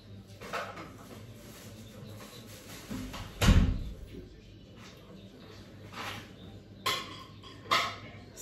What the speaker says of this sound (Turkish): Bir dakika şu kapıyı kapatayım.